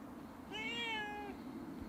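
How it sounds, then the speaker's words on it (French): A cat gives a single clear meow lasting just under a second, fairly near, against a quiet indoor background. "Et le chat? Tu veux dire bonjour aux internautes?"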